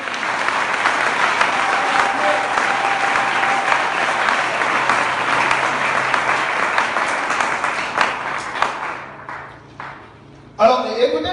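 A church congregation applauds steadily to acclaim the Lord, a dense sustained wash of clapping that carries on for several seconds before thinning out, with a sharp burst near the end.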